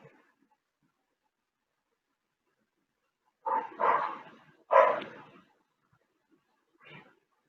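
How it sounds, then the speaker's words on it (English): A dog barks a few times in a quiet room, two loud close barks followed by a fainter yip after a pause. "Whose dog? Is it yours, Sabu?"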